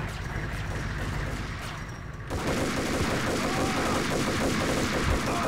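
Sustained gunfire in the video game Max Payne, a dense rapid volley of shots that swells louder midway and keeps rattling steadily over a game soundscape.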